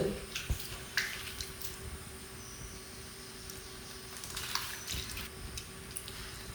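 Tamarind soaked in water is squeezed by hand in a bowl, giving quiet wet squelches, drips and small splashes, with no one speaking.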